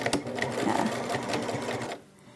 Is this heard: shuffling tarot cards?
no